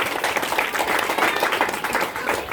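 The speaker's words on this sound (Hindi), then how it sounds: "जोरदार तालियां उनके लिए।" Loud, dense applause from an audience, a continuous rattle of many hands clapping at once, filling the whole short stretch with no voices over it.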